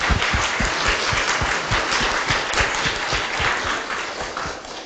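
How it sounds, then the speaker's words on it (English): An audience at a KITP conference welcome bursts into steady, dense applause that holds at an even level throughout. "so a round of applause for her"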